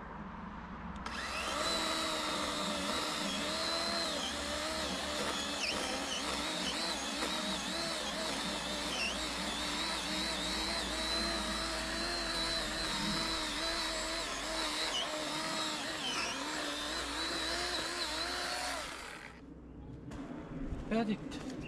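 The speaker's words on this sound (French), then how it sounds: "Je vais aller aiguiser la tronçonneuse." Chainsaw chain sharpened with a rotary power grinder, a continuous high buzzing whine holding steady for roughly eighteen seconds before stopping abruptly.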